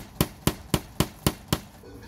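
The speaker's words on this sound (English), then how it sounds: "So he's just nailing that little lung in to something" A hammer drives a nail into a bamboo pole with six evenly spaced, sharp hollow knocks, roughly four per second, close and loud, then stops.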